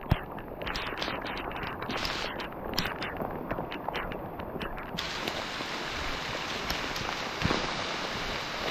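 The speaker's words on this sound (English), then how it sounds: "the pitter-patter of rain." Steady rain patters through a forest, a soft even hiss of drops on leaves and ground, fairly close and continuous, with a few brief rustles and no talk.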